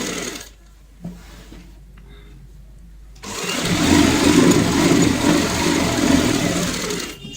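An electric sewing machine stitches a fancy bed sheet made from leftover fabric, starting after a few quiet seconds and then whirring loudly and steadily until the end.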